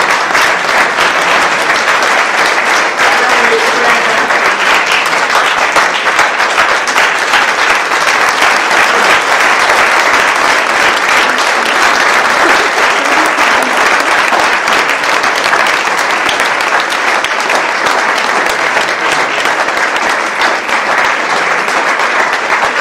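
Sustained audience applause fills the room at a hotel industry meeting, dense steady clapping from a large crowd continuing loudly for over twenty seconds without a break.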